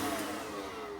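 A hotel room hairdryer at Charles de Gaulle Airport runs in a steady, faint whirring drone with a high-pitched whine that slowly shifts in pitch.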